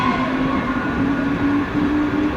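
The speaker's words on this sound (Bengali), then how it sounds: "ট্রেন যাচ্ছে" A train rolls past a station at night, a loud, continuous rumble and rattle with a steady ringing tone above it, close by and without talk.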